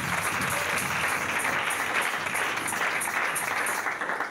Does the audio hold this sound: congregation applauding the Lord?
yes